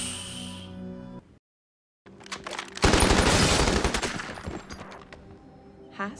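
Bonnie and Clyde shoot two police officers in a burst of staged gunfire: after a short silence, a loud, rapid, sustained volley of shots rattles for several seconds before easing off.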